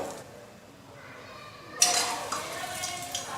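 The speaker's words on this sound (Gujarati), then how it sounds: "હવે બધું સારી રીતે મિક્સ કરી લઈએ મસાલા અને લોટ બધું સારી રીતે મિક્સ થાય એ રીતે મિક્સ કરીશું" Khatavada batter of flour, spices, jaggery, soda and hot oil is mixed in a bowl: quiet at first, then a sudden spoon scrape followed by repeated clinking and stirring against the dish, close and without talk.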